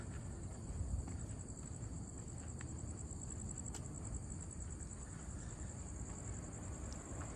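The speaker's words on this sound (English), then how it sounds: "Can you guys hear the crickets?" Steady high-pitched cricket chirping fills the night air in a small town in Kyushu, Japan, a continuous dense trill with a low rumble of outdoor background noise beneath.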